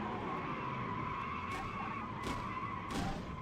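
A race car on an oval raceway, heard onboard, grinds against the wall and skids up on two wheels: a loud continuous engine roar with tire skid noise and a few sharp scraping bursts.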